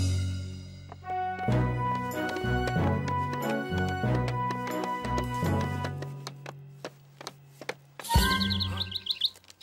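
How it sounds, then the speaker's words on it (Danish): A cartoon bird chirps and tweets repeatedly over a busy musical score in a children's animated firefighter series, with a flurry of rapid high chirps near the end. "den fugl kan virkelig lide at være her"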